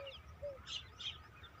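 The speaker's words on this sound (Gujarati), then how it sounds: "આ ગામડાની મોજ છે પક્ષીઓનો કલરવ" Faint bird chirps and short whistled calls sound in the distance on a village morning, a few scattered notes over a low, quiet outdoor background.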